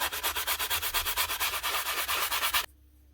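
Rhythmic back-and-forth rubbing of a fine sanding block on a Paslode nail gun part, about a dozen quick even strokes close up, then it stops abruptly.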